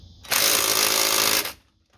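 An impact wrench tightens a brake caliper bolt on a 2004 Jeep Grand Cherokee during a front brake rotor job, giving one loud, close, rattling burst about a second long before cutting off.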